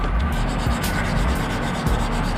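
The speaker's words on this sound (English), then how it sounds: "just rub it on the piece that you're gonna do" Steady, close abrasive rubbing of polish onto a Smith & Wesson SD9VE pistol slide, a continuous gritty scrubbing with slight back-and-forth swells and no voices.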